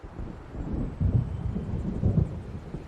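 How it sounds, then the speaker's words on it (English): Thunder of an approaching storm in the video game Alan Wake: low, distant rumbles rolling in two swells over a dull windy background, fairly quiet, with no voices. "It seems there's a storm coming."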